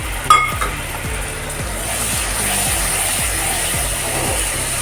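Onion paste hitting hot frying spices in a pan for a snakehead fish kalia, giving a steady broad sizzle that swells after a brief clatter and runs on evenly, with faint scraping ticks underneath.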